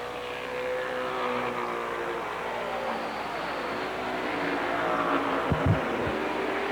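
Late model race cars lap a speedway during a qualifying heat, their engines roaring in a sustained, swelling drone from middle distance, with a few sharp bursts near the end.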